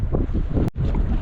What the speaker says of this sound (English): It is so windy out right now.